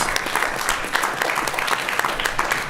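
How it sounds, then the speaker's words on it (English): Steady audience applause fills the room at the close of a school quiz competition finals match, dense continuous clapping at moderate volume throughout. "Absolutely give these guys a round of applause."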